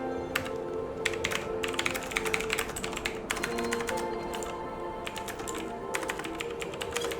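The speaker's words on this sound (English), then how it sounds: "If I can type." Rapid keyboard typing in bursts of clattering keystrokes, up close and steady, layered over droning background music from the Final Fantasy XIV dungeon Snowcloak.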